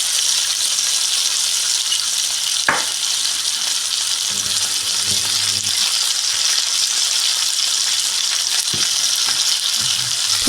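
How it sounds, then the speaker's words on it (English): A ground beef patty fries in a pan with a loud, continuous sizzle and dense crackle, broken by a few sharp knocks and scrapes of a utensil against the pan, with no talking. "Remember to flip your ground beef patty."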